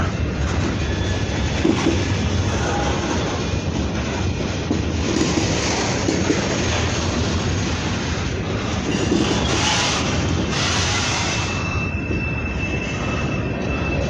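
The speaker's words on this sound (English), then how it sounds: "there might be another train coming up on the other tracks" A freight train rumbles steadily past on the tracks, a continuous broad roar with faint metallic squeals over fourteen seconds, no voices.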